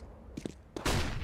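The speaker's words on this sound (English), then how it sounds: "Flashbang out。" A flashbang grenade in CS:GO gives a couple of soft clinks, then bursts with a sudden loud bang that rings on into a sustained wash of noise.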